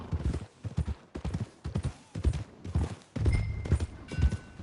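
Horse hooves clip-clop at a steady walking rhythm in Red Dead Redemption 2, loud and close, with a brief faint tone partway through and no talking.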